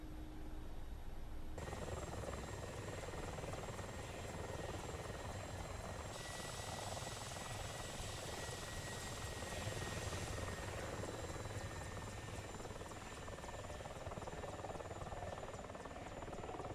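A Mi-24 Hind helicopter landing on a flight deck in a flight game drones with a steady rotor and turbine roar, faint and unbroken throughout, a tonal whine shifting partway along.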